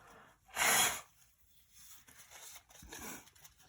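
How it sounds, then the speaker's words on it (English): A forceful nasal blow lasting under a second, followed after a pause by a second, softer snort; close and fairly loud, no talking. "before I start, I'm going to blow my nose"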